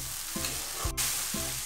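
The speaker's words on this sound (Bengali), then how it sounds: "এবার আমি এটাকে একটু ভালো করে ফ্রাই করব" Rice for pulao fries in a pan with a soft, constant sizzle, while a spoon scrapes through it in three regular strokes, close and clear with no talking.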